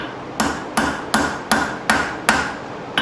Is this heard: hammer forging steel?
yes